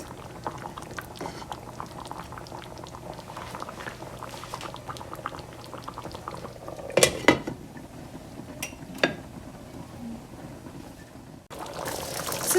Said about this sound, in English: then I'm going to cover and let this simmer for another 5 minutes